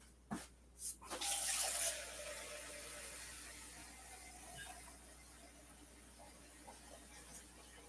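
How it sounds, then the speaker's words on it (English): Water pours steadily into a container for cooking split pea soup, a continuous hiss and splash that follows a couple of short knocks at the start. "I'm gonna fill it to the max, Mark."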